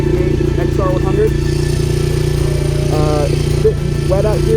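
A 1988 Honda XR100 dirt bike engine idles steadily and loudly up close on wet rural riding land, a continuous low droning rumble throughout while someone talks over it.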